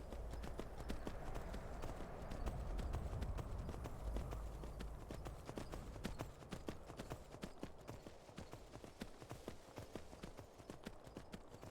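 Horse hooves clip-clop in the video game Skyrim, a steady run of sharp, evenly paced hoofbeats over a low rumble that eases slightly partway through.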